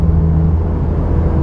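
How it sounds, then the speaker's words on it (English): A car engine idles and revs close up, a loud, steady low rumble with a slight rise in pitch, heard alone without talk. "I want you guys to hear my car real quick."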